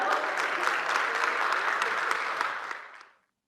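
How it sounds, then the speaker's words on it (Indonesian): Applause from an audience at an Indonesian small-business digitalisation event, a steady dense wash of many hands clapping that fades out just after three seconds. "Mari kita berikan tepuk tangan yang meriah"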